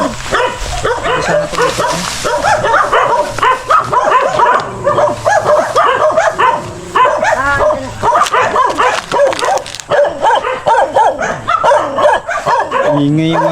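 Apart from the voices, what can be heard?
dog barking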